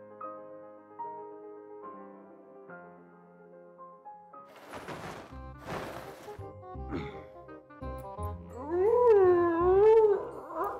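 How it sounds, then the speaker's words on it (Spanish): A wolf lets out a rising and falling howl near the end, loud and close, after a stretch of soft music and a couple of sharp thumps. "¿Qué? ¿Qué es eso, lobo?"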